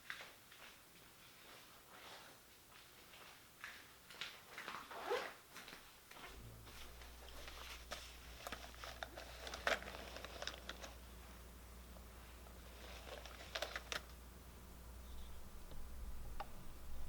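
Polaroid Zip instant mobile printer feeding out a photo, a faint steady mechanical whir with small ticks and clicks running for several seconds, quiet and close.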